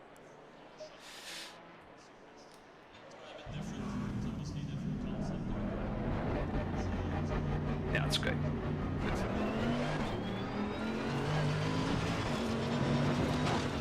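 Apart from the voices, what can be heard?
Mercedes race car engine driving in a racing video game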